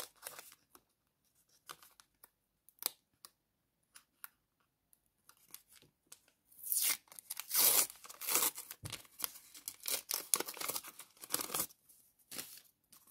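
Paper surprise packet torn open during a paper-toy unboxing: quiet crinkles and small snips at first, then a louder burst of ripping, crunching and rustling paper close up, with no talk.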